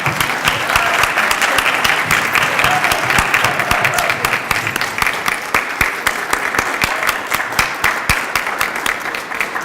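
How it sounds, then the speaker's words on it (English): Sustained applause from a ceremony audience honoring nursing honor society inductees, dense steady clapping filling the room with a few louder individual claps standing out, continuing for the whole stretch. "we can give you another round of applause"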